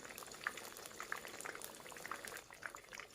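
Batter fries in hot oil with a dense bubbling crackle and scattered sharp pops of spattering, made worse by a damp spoon, steady and close throughout with no talk.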